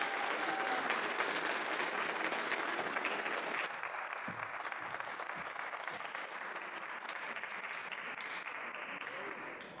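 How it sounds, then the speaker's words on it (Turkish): Steady, dense applause from a conference audience welcoming a particle board kaizen team onto the stage at a quality circles event, continuous and fairly loud clapping that eases slightly partway through but carries on throughout. "Alkışlar ekibimiz için."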